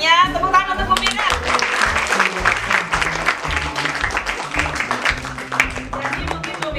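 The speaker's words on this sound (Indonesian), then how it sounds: "Tepuk tangan untuk Bu Mira." A group of teachers at a school meeting applauds, a close, dense rattle of many clapping hands lasting several seconds, starting right after a voice and accompanied by a low rhythmic thumping underneath.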